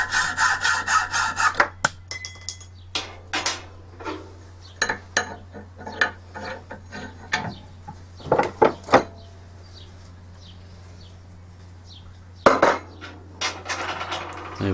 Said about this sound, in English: Fresh blade, and you're straight through.